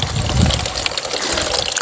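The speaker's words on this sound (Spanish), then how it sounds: "este manantial que está fluyendo de ahí, de este árbol de cacahuananche" Spring water wells up and flows steadily at the foot of a cacahuananche tree in a rural spring, a continuous close, fairly loud gushing and trickling wash with no voices.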